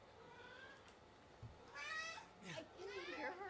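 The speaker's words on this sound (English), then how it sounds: "It's my cat." A pet cat meows several times in quick succession, close and clear, its rising and falling cries over a low background with some faint voices.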